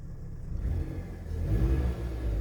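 A 2013 Dodge Avenger engine running with a check engine light on, a low steady rumble close by that swells slightly, with no talking.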